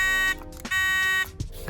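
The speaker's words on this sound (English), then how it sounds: "Has an Otis buzzer in it." An Otis elevator alarm-button buzzer sounds up close in short, harsh electric bursts, buzzing, pausing briefly, then buzzing again in an uneven on-off pattern.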